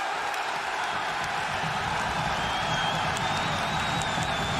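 Wrestling crowd at a Ring of Honor Supercard event in Dallas, Texas, roaring steadily with cheers, whoops and applause in a dense, continuous wall of noise, with a faint voice underneath.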